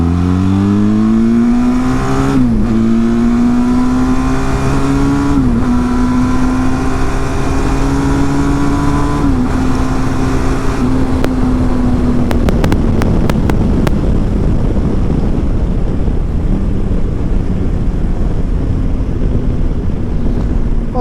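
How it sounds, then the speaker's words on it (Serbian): A 2020 Benelli TRK 502X motorcycle pulls hard from second gear, its engine note climbing in pitch through several rising sweeps with brief dips at each shift, recorded up close with heavy wind rush from riding. "Sad ćemo pokušati iz druge brzine da vidimo samo kakvo je ubrzanje."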